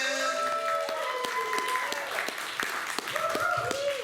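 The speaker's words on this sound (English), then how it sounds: "let's have a big round of applause for your last comic of the evening" A comedy show audience claps and cheers steadily, a dense wash of applause with a few voices calling out above it.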